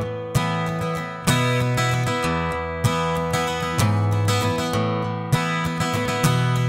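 An acoustic guitar strums a song alone and up close, with repeated chord attacks in a syncopated rhythm where some chords land on the beat and others are pushed ahead of it.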